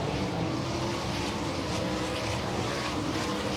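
Winged sprint cars roar around Cotton Bowl Speedway dirt track during a World of Outlaws race, a dense, continuous loud engine wash heard from the grandstand distance.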